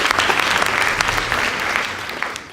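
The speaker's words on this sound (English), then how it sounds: "Please give them a round of applause." An audience claps for a high school debate team, a brisk, continuous patter of applause that fades slightly toward the close.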